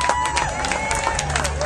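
Crowd at the Wisconsin State Fair applauds and cheers for Dave Smith at a celebrity cream puff eating contest, brisk outdoor clapping mixed with chatter and a whistling tone.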